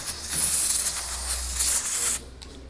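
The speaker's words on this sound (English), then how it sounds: "Inda, can I get a blower quickly?" A dental air blower sprays a steady, loud hiss of air for about two seconds while cleaning an implant abutment and crown, then cuts off abruptly into near silence.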